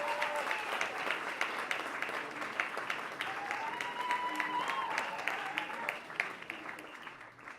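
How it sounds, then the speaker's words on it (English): Audience applause for the first speaker, the head of secondary, at the opening ceremony of an international peace conference, a steady run of many clapping hands in a hall, moderately loud and sustained, with faint voices underneath. "Big applause for him, please."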